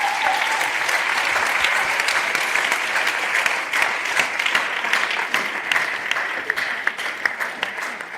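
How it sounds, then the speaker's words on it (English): A conference audience gives a sustained round of applause for Stefano Puzzer, dense steady clapping that slowly thins out toward the end. "First of all, please give him a big round of applause."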